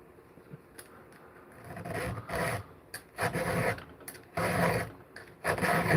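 Hand file rasping against metal while sharpening, heard as a series of uneven rough strokes, close and fairly quiet, with short gaps between passes and no talking.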